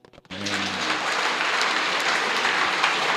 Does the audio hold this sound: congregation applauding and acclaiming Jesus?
yes